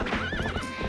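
Horse in Zelda Twilight Princess, a brief burst of clopping hooves with a high neighing whinny on top, close and clear.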